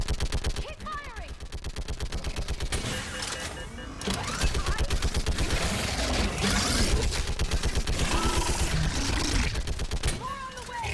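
Rapid automatic gunfire rattles without pause in the Mass Effect 3 video game, dense bursts layered with shouted voices and battle noise at close range throughout.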